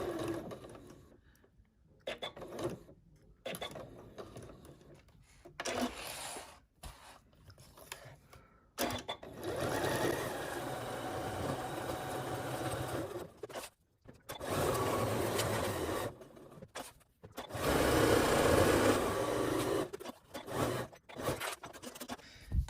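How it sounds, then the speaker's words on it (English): A sewing machine stitches a quilted zipper pouch at a quarter-inch seam allowance, sounding in close, loud bursts of rapid whirring that start and stop repeatedly, with short pauses between runs. "we're going to use our 1/4 inch seam allowance, and we're going to stitch"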